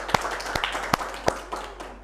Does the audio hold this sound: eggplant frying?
no